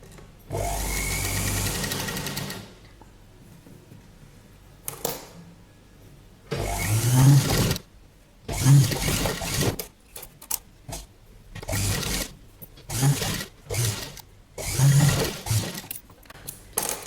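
A sewing machine stitches a padded blouse in several separate runs, a long one at first and then shorter bursts of a second or so, close and clear with quiet gaps between.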